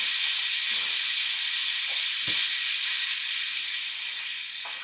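Seasoned mushrooms simmering in a pan, a steady close, loud sizzle throughout, broken by a few faint clinks of utensils.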